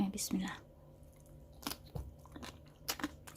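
Crunchy bites and chewing of Thai som tam papaya salad made with fermented fish, several close, crisp crunches spread irregularly over a few seconds in an otherwise quiet room.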